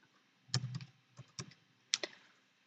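Typing on a computer keyboard into the Windows start bar search, a few quiet, close keystrokes in short clusters separated by brief pauses.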